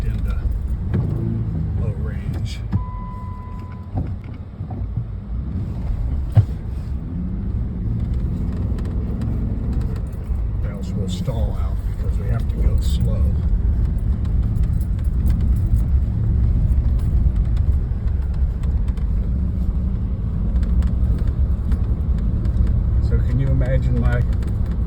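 A vehicle in low range rolls along an old wagon road in Somerset County, Pennsylvania, its engine a steady low rumble with faint rattles throughout, while people talk over it.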